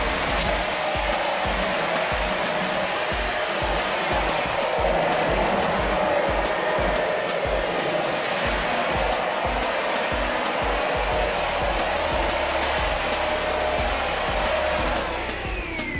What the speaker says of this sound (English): So we're gonna pick it up with the vacuum and we'll see how it does.